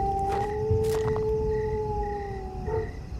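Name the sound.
jackals howling at night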